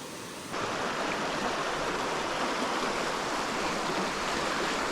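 A steady rush of flowing creek water in Dolly Sods, constant and close, filling the whole stretch with an even, broadband hiss.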